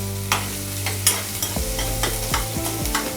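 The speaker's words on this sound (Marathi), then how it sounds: "थोडासा असा कांदा तेलामध्ये छान परतून घेतला" Sliced onion sautés in hot oil in a pan, the spatula scraping and stirring in repeated rhythmic strokes over a constant close sizzle, with no voices.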